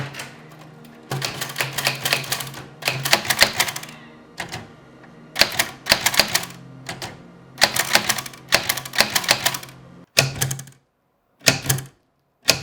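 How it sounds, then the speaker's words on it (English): Old vintage typewriter typing letters: bursts of crisp key strikes in quick runs, separated by short pauses and a few isolated clacks near the end, close and fairly loud with no talking. "I bought an old vintage typewriter and typed up all the letters myself"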